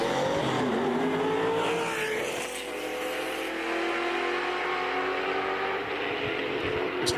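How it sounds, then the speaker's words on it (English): A Pontiac GTO and a New Edge Mustang drag race, engines roaring loud and close with rising revs and a whining pitch climbing through gears, the sound dipping briefly mid-run before surging again. "Pontiac GTO on the left-hand side, taking on the New Edge Mustang in the right-hand side."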